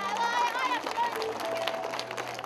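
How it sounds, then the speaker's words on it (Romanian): Crowd at a village festival day in Rojiște applauding the mayor, scattered clapping mixed with crowd noise and background music tones, fairly soft and steady throughout. "Haideți să mai aplaudăm o dată pe domnul primar."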